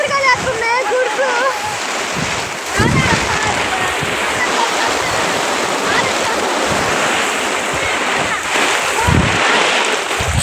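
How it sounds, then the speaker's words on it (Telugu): Heavy storm rain and strong gusting wind roar continuously close by, with splashing water, while a person talks over the noise. "గాలి అయితే వీచేస్తుంది, వర్షం బాగా వస్తుంది"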